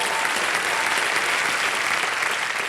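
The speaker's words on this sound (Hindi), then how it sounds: "दोनों का बहुत बहुत स्वागत, तालियां बज जाए इनके लिए।" A studio audience at a Kaun Banega Crorepati quiz show breaks into steady, full applause, thick and even clapping throughout the short burst with no talk.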